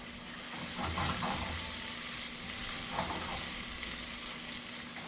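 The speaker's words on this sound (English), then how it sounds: "I want this to fry while my meat fries also." Meat and onions fry in a pan with a steady, close sizzle and crackle, and a few brief scraping stirs break in along the way.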